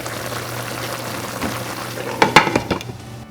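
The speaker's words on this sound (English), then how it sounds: "And then we'll simmer this until the meat is tender." Beef short ribs in a pot with soy sauce and pepper bubble and sizzle at a low steady level, then a burst of louder clattering stir and pot knocks rises near the end.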